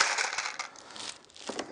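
A handful of small screws is grabbed and jostled, giving bright, irregular metallic clinks and rattles that are close and fairly quiet, with a brief burst near the end.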